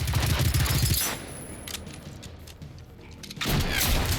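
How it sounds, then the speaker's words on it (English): Gunfire and explosions in the video game Generation Zero hit as dense, loud bursts at the start and end, with a quieter rumbling stretch between them and no talking. "Shooting both of you guys at the same time. I like that. Oh, yes. One explosion kills the other one."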